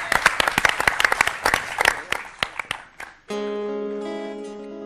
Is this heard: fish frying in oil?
no